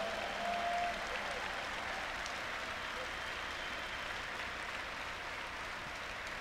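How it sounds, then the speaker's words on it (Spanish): A church congregation applauds in praise and worship of the Lord, a steady, diffuse wash of many hands clapping at moderate distance, sustained evenly throughout with a faint voice briefly audible near the start. "levántale un aplauso de alabanza y adoración al Señor"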